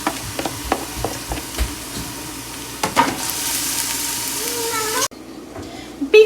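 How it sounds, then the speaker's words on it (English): Washed rice fries with onions in a pot, giving a steady dense sizzle and crackle with scattered sharp stirring clicks, loud and close, ending in a sudden drop to quieter hiss and a final clatter. "we're just going to let this fry until it's really loose and the water has dried up from the rice"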